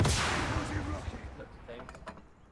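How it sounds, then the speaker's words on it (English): Single sharp gunshot in Call of Duty: Warzone, followed by a decaying echo and a few faint clicks and rattles. "I'm shooting, that's me."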